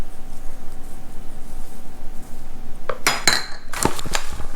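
Popcorn being tossed with furikake and Hing Mui powder in a bowl, giving a few short clattering clinks near the end over steady background noise, with no talk.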